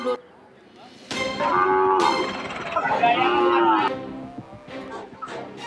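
Cattle at the Blora livestock market in Central Java, where foot-and-mouth disease was found, low loudly in overlapping calls for about three seconds, followed by quieter scattered moos and market noise, with no talking.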